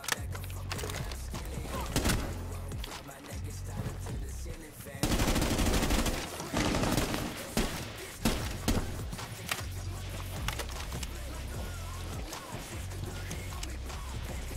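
Gunfire in the Rainbow Six Siege video game, bursts of rapid shots over a steady low game rumble throughout, with faint voices in the background.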